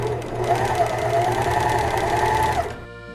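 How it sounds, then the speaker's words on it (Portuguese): Overlock sewing machine stitching along the edge of a jeans-style knife pocket, a steady fast mechanical whir running close and loud for nearly three seconds before it stops. "Então eu venho, encaixo ela no overlock normalmente e passo."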